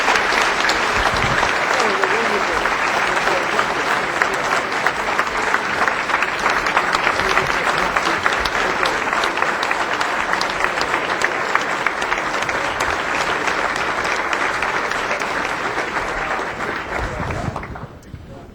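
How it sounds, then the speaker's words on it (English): Sustained round of applause from a Rotary luncheon audience thanking two post-election speakers, dense and even clapping filling the room for about eighteen seconds before cutting off abruptly, with some voices beneath. "Let's give them both a round of applause."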